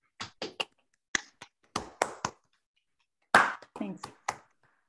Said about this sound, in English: please briefly unmute yourself and let's applaud for the speaker